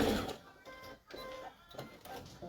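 A sewing machine stitches pairs of patchwork quilt blocks together, giving a close, moderately quiet mechanical whirring with rhythmic ticking pulses and brief pauses.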